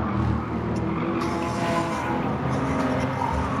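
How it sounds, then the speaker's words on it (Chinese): A McLaren racing car in a PS5 racing game at the Nürburgring roars continuously at high revs, loud and steady, with tire noise and no talking. "应该是一个迈凯伦的车"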